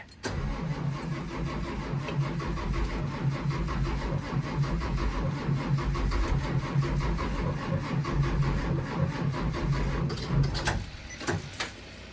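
A bus engine cold starts as the starter cranks in a long steady rhythmic churn, loud and close, before easing off with a couple of clunks near the end.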